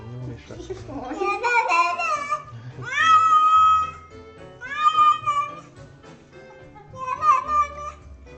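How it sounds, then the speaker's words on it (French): A cat meows several times in a row, loud and close, each call long and rising then falling, with short pauses between and no other sound competing. "c'est mignon les chats quand même"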